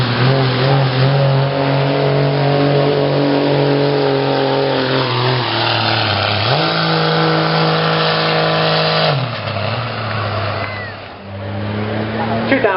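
A 2005 Dodge pulling truck at a county fair truck pull, engine wound up loud and close, holding a heavy droning roar with revs climbing and shifting pitch, while an announcer talks over it.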